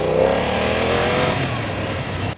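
A BMW F900R motorcycle engine runs smoothly and loudly up close, a steady throaty drone that sags slightly in pitch before cutting off abruptly.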